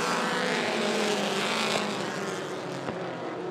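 Mini stock race cars roar away together at the green flag, a dense, continuous engine drone from the pack that fades slightly as the field pulls off.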